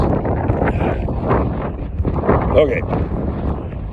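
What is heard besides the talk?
wind blowing against the microphone outdoors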